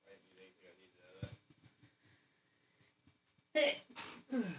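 A single sneeze bursts out abruptly midway, close and fairly loud, set among quiet casual talk and rustling.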